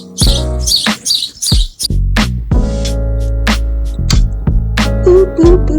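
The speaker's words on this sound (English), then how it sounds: "Noisiest bird on the planet." A very noisy bird calling in a garden in June: loud, close bursts of harsh, chattering calls, some raspy and some tonal, coming in quick irregular phrases with no voices.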